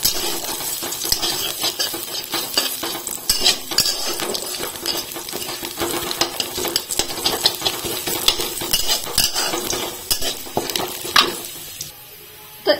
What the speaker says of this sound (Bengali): এবার এর মধ্যে দেব রসুন কুচি, লঙ্কা কুচি দিয়ে ভালোভাবে একটু ভেজে নেব।